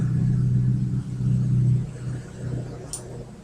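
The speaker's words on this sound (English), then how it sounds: "That's a very rude truck." A loud truck rumbles past outdoors, its low engine drone swelling and easing over a few seconds before fading, with no talking over it.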